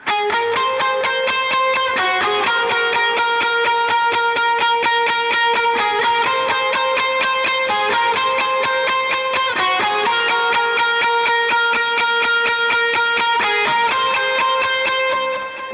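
Lead electric guitar riff from the second post-chorus of a worship song, with bright, sustained overdriven notes changing steadily in a continuous, loud melodic line and no talking.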